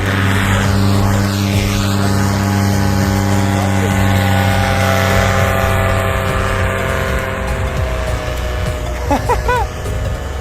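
Small aircraft engine at takeoff, a loud steady droning hum with strong tonal harmonics held throughout, close and continuous, with faint brief voice-like sounds near the end.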